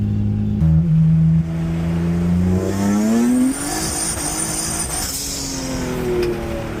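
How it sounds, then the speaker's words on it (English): A turbocharged V6 Honda Civic prepped for the drag strip revs hard as its tires spin, a loud, close engine note climbing in pitch with a hissing squeal layered on top. "So that's the tires spinning."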